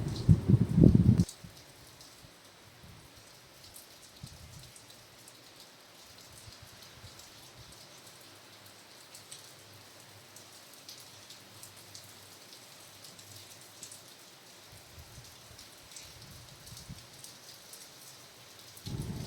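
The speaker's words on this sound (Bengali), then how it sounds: "বাইরে বৃষ্টি, আমরা এখানে এনজয় করছি" Rain falls outside in a soft, continuous patter that holds steady throughout, with louder bursts of nearby activity at the very start and end.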